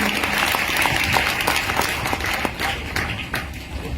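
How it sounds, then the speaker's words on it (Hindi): An audience at an indoor gathering bursts into dense, loud applause for newcomers, with scattered individual claps poking through the continuous roar. "एक बार जोरदार तालियां नए साथियों के लिए।"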